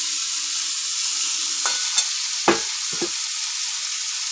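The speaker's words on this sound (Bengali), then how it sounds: "তেলে ছেড়ে দেওয়া হলো" Small mourola fish fry in hot oil with a steady, loud, close hiss, broken by a few sharp pops and spatters.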